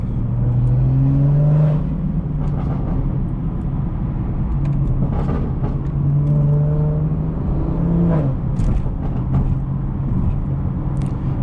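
A modified BMW 440i drives through New York City streets, its engine droning and rising through several revving pulls, with surrounding traffic and road noise throughout.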